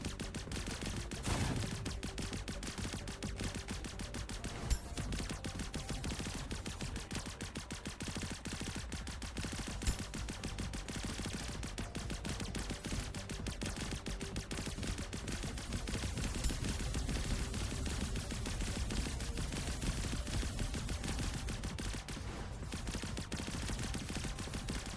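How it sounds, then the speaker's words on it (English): Gunfire in the video game Shape Shifter Formations, a dense nonstop clatter of rapid shots and flying bullets filling the whole stretch at a fairly even loudness. "We have so many bullets flying around."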